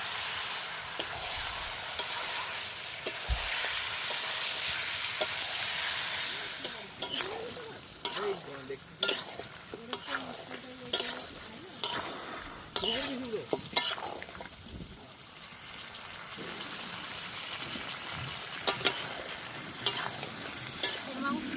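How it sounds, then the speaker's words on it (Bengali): Duck meat stirred and fried with spice paste, a steady loud sizzle with repeated clanks and scrapes of a spatula against the pot, a voice talking over the cooking in the middle stretch. "মশলাটার সঙ্গে মাংসটা ভালো করে মিশিয়ে নেবো"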